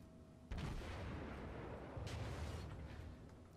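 An enemy ship fires on the player's ship in a naval video game: a sudden heavy boom bursts in, followed by a sustained rumbling roar and a second thudding blast, fairly loud and without talk.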